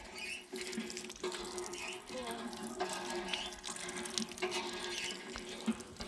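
Water pours steadily from a tap as hands are washed outdoors at a village temple, a fairly faint continuous splash with scattered light knocks and clatter in the background.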